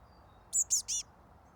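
A baby bird calls for its parents with three quick, high, bright chirps in a short run, close by and clear over a faint, quiet background.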